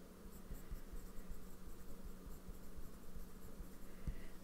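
A ballpoint pen scratches steadily across paper, a close, quiet, continuous scribbling with soft strokes and no talk.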